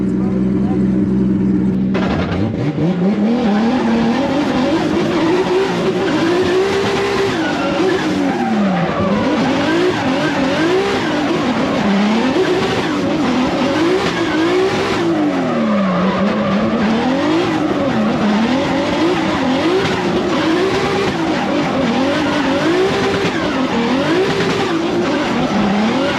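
A 1200 wheel-horsepower Corvette on a track squeals and skids its tires continuously, the pitch weaving up and down in long wavering howls with engine roar beneath, loud and close throughout, with some talk mixed in.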